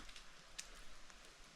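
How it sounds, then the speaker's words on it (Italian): Water drops from snow melting off trees in a quiet Patagonian forest at Los Alerces park, a few faint scattered drips, one sharper tap standing out over soft background hiss. "Se si sta in silenzio si sente il rumore delle gocce che cadono dallo sciogliersi della neve sugli alberi."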